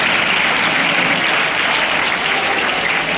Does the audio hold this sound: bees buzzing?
no